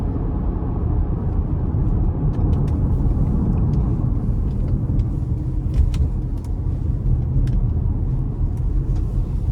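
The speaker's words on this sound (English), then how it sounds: "Tire noise, not terrible." Inside a 2020 Toyota RAV4 Hybrid XSE with its 2.5-litre four-cylinder, steady low tire and road rumble fills the cabin, continuous and even, with faint light ticks above it.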